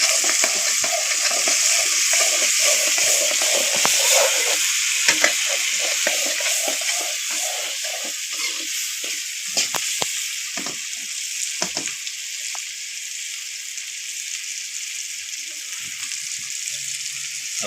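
Spice masala for raw banana curry stirred and fried in a pan, with a steady close sizzle and repeated scraping, clattering stirring strokes throughout.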